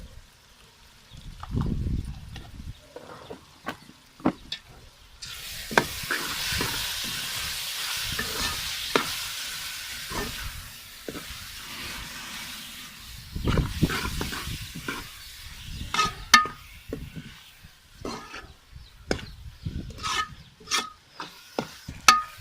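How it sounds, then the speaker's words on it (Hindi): Masala seasoned with salt and turmeric fries in a pan for karela keema, with steady sizzling broken by repeated scraping strokes of a spoon stirring it, near and moderately loud with no speech. "देख सकते हैं हमारा मसाला बिल्कुल अच्छी तरह भून गया।"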